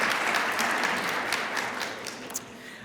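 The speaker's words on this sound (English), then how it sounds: "Give her another round of applause." An audience at the Certiport 2025 Microsoft Office Specialist World event gives a round of applause, a dense wash of clapping that gradually fades over a few seconds.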